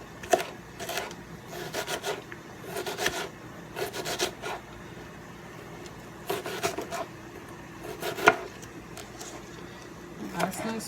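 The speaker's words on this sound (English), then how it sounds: "So I'm dicing it really, really small." A knife dices food very small on a cutting board for seafood boil butter sauce, giving bursts of quick, rhythmic chopping taps separated by short pauses, close and moderately loud.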